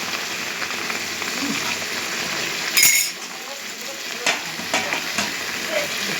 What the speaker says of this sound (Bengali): কষা মাংস হচ্ছে বন্ধুরা।